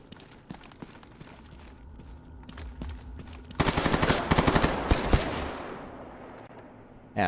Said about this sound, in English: Yeah, there's the more gunfire.